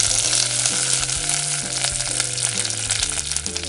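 Mustard seeds, four dried red chilies and curry leaves sizzle in hot oil for a vegetable stir-fry, a loud, continuous crackling fry with popping bursts and faint stirring, no voices.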